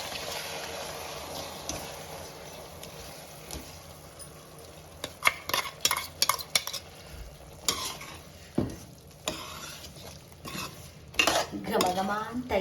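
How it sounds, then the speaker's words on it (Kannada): Ground masala being added and stirred into a pan of bread pulao, with a metal spoon scraping and clinking against the pan amid a steady sizzle and bursts of clatter toward the end. "ಇವಾಗ ನಾನು ರುಬ್ಕೊಂಡಿರೋಂಥ ಮಸಾಲೆನ ಇದಕ್ಕೆ ಸೇರಿಸ್ಕೊತಾ ಇದ್ದೀನಿ."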